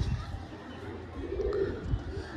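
Black-beaked pigeon cooing softly, a low, brief murmur at moderate distance inside a pigeon shop, with other birds and faint background chatter around it.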